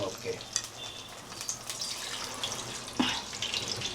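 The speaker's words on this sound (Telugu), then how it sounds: "మళ్ళీ ఉల్లిగడ్డలు వేపుకుంటా." Onions frying in reused oil in a pan for a Godavari-style fish curry, giving a steady low sizzle with small scattered crackles and one sharper pop, close and moderately quiet with no talk.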